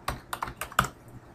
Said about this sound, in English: we're going to type in BizHub here